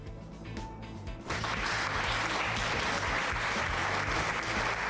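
Applause from a crowd in the video game Crisis Core: Final Fantasy VII Reunion, starting with a quieter lead-in and then swelling into steady, loud clapping that holds without a break.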